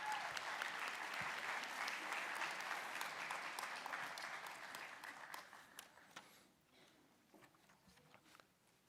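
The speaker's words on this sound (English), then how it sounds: "Round of applause for this group as they get their pins." Audience applause for nursing graduates receiving their pins at a college of nursing graduation ceremony, a steady dense wash of clapping that gradually thins and fades toward the end.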